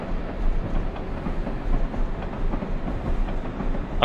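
Train rumbling steadily along rails in Train Simulator 2015, a CSX Genset locomotive on the New York New Haven route, with continuous low clickety-clack and rolling rumble at moderate loudness throughout.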